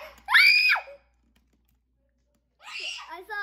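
Players of the horror game The Apartment let out two loud, close, high-pitched screams, a short sharp burst followed by a gap of silence and then a second shrieking outburst.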